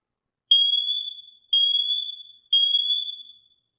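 A SITERWELL hardwired interconnected smoke and carbon monoxide detector sounds its test alarm: three loud, piercing high-pitched beeps, each lasting about a second, evenly spaced with no other sound.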